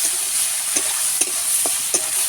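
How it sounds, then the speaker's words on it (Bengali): Eggplant slices seasoned with turmeric and salt frying in a pan, a bright continuous sizzle with a few sharp spatula scrapes as they are turned, close and alone without speech. "একটুখানি নাড়াচাড়া করব"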